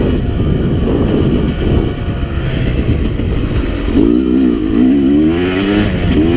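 Yamaha YZ250X two-stroke dirt bike (2017) ridden on a trail in third gear, its engine droning loud and steady throughout, pitch rising and wavering as it revs harder near the end.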